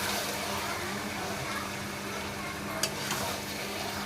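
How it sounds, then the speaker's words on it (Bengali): Mutton kasha stirred in a pan, a close, continuous sizzle with soft scraping and shuffling of the meat, with one brief knock near the end. "এটাকে দিয়ে এবার এটাকে খুব ভালো করে নাড়াচাড়া করে নেবো"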